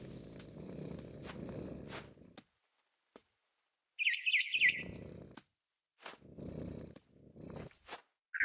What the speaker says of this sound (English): And suddenly, I was a cat.